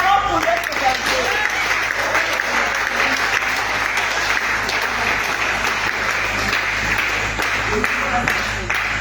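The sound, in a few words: church congregation applauding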